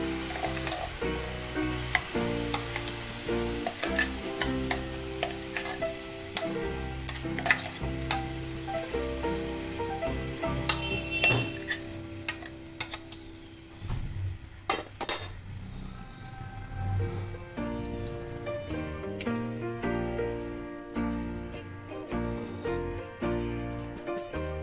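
Carrot paste fries in a pan for rasmalai, giving a steady soft sizzle with repeated scraping stirs and light clinks of a spoon against the pan, under faint background music.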